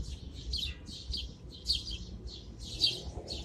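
Many birds chirp in an urban city, repeated high bright bursts of tweets in an irregular rhythm, moderately near but fairly quiet over a low rumble of city noise, with no talking.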